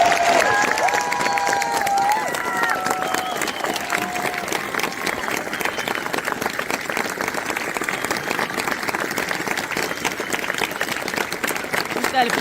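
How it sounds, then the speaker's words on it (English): A large outdoor crowd at the Mount Rushmore lighting ceremony gives a sustained, steady round of applause, with scattered cheers and whistles near the start. "let us show them our appreciation for their sacrifice for our freedoms with another heartfelt round of applause"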